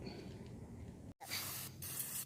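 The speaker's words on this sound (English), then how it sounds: "I'm gonna go spray it down, let it sit for a minute" A sharp burst of cleaner spray hisses loudly onto a brake hub after a brief silence, continuing for about a second with a short pause before resuming over steady background noise.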